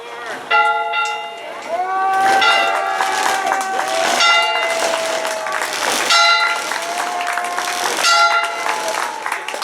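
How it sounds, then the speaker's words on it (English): A bell rings out repeatedly with long ringing tones, loud and close, over a murmuring crowd and scattered clapping at a 90th anniversary event. "they're gonna ring the bell"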